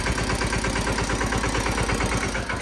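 Small tractor engine chugs while the machine is being turned, a loud, close, steady rhythmic diesel thump with mechanical vibration throughout and no voices over it.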